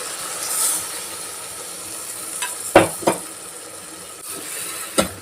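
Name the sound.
ground spice paste added and frying in a pan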